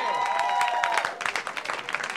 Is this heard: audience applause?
yes